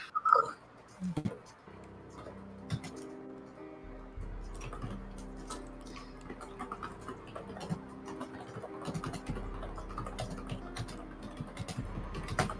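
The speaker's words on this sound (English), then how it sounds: "I hear some furious typing." Rapid, furious typing on a computer keyboard rattles along in dense bursts of clicks, close and fairly quiet, over a low background hum.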